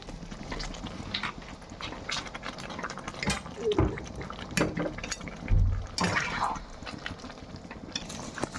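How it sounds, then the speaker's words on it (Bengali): Water is added to frying chili chicken masala in a pan, giving a continuous wet sizzle and bubbling with scattered clinks and scrapes of a utensil, moderately close, alongside low background voices. "এর মধ্যে একটু জল দিতে হবে, বেশি গাঢ় হয়ে গেছে"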